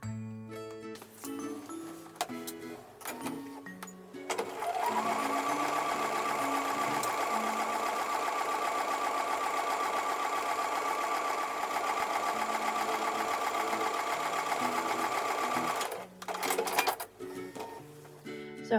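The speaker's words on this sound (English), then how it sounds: "Now I'm going to take that back to the sewing machine." A sewing machine stitches a granny square quilt block, running in one steady, loud, continuous mechanical whir for over ten seconds, with brief starts and stops around it.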